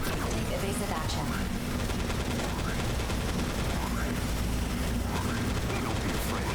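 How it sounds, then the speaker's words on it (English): High-powered laser weapon firing in the mech video game Daemon x Machina, a continuous loud, crackling barrage with rapid mechanical pulses and sweeping tones running steadily throughout, under faint game audio. "It is a high-powered laser weapon"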